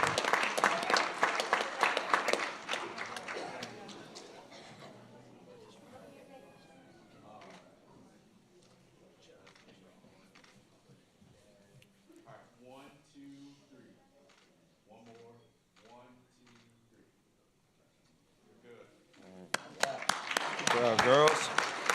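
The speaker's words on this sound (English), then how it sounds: "Give them another round of applause." An audience applauds a girls' team with a burst of clapping at the start that fades into a quieter stretch with a voice talking, then a fresh swell of applause rising again at the end.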